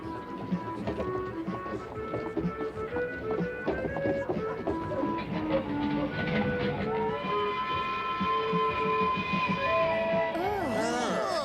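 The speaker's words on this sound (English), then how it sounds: "The train is traveling up above us." An elevated train rumbles and clatters past overhead on Broadway in New York, with steady mechanical roar and squealing tones, ending in a rising metallic screech.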